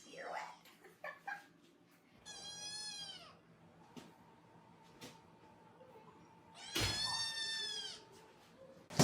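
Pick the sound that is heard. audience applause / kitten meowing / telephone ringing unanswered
kitten meowing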